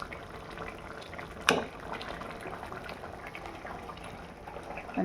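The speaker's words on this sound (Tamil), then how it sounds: "கருவாடு நல்லா கொதித்து வெந்துடுச்சு" Dried fish curry with coconut simmers in a pot, giving a steady low bubbling throughout with one sharp clink or tap near the start and a brief rustle at the end.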